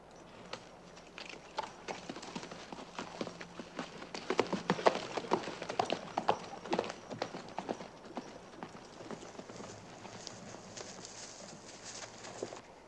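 Horses' hooves clip-clop in a classic 1955 Western, a run of rapid hoof beats building louder toward the middle and then easing, with a faint murmur of voices underneath.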